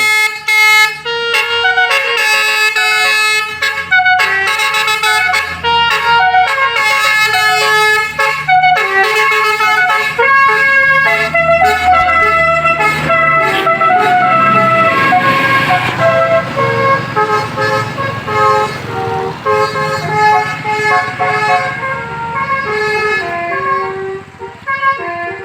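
Bus telolet horn on a Sumber Jaya Trans coach passing along a narrow village road, playing a loud, continuous melodic tune of rapid, shifting tooting notes close by for the whole stretch.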